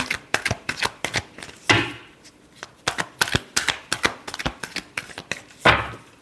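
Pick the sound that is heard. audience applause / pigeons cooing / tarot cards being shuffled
tarot cards being shuffled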